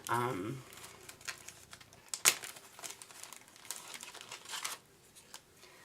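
Packaging crinkles and rustles close by during card making with a Sizzix die, in irregular bursts of crackle and a sharp snap near the middle, fairly quiet, with a brief voice at the start.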